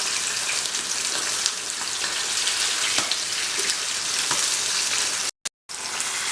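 Red pomfret fish frying in hot oil in a village kitchen gives a steady, dense sizzle and crackle, close and even, with a brief cut to silence near the end.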